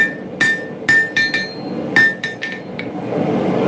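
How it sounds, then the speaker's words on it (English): Hammer forging metal to draw out material: a series of sharp, ringing metallic strikes, close and loud, in an irregular rhythm with bright clinks trailing after each blow. "the hammer technique is really handy for drawing out material."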